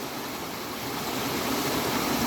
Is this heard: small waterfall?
yes